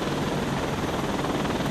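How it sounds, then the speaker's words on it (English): Constant close rotor drone of a Black Hawk helicopter in the Defender Patrol VR game, a dense steady whir with faint rhythmic beating and no voices. "Why not a Black Hawk? You know, hey, the helicopter from the future in the past."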